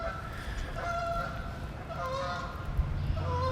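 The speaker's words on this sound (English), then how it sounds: "Got some geese flying overhead. Some honkers." Several geese honk as they fly overhead outdoors, their calls fairly faint and distant over steady background noise, with a low rumble near the end.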